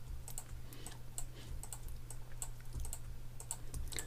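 Rapid keyboard and mouse clicks tap out in an uneven, steady run while Photoshop's healing brush is used, close and quiet over a low electrical hum, with no speech.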